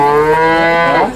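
A young calf, under six months old, moos in one loud, sustained bellow at a calf beauty contest, close and clear with no talk over it.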